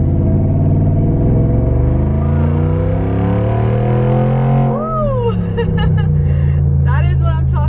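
A Mercedes G Wagon with a loud aftermarket exhaust drones steadily while driving, a deep low engine roar heard from inside the cabin that rises as it accelerates, with people talking over it.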